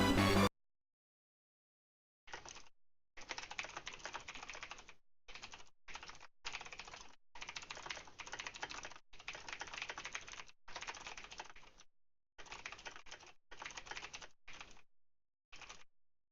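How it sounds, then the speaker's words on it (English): Typing on a computer keyboard comes as dense bursts of quick key clicks in several separate runs, close and crisp, with short pauses between and no talking. "let me type something in chat"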